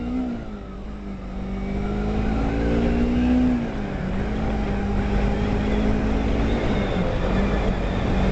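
A motorcycle engine revving as it is ridden through its power band, a loud, steady droning note that climbs in pitch, dips briefly, then holds steady under continuous wind and road rumble.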